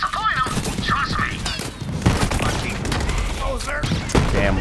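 Rapid bursts of gunfire from a Borderlands 3 firefight crackle densely and continuously, mixed with thuds and impacts, while a voice talks over the shooting.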